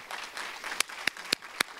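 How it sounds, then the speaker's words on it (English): Light applause from a small group at a school art awards event, with a few distinct loud claps standing out at a steady rhythm over a soft bed of clapping. "Please give them a big round of applause."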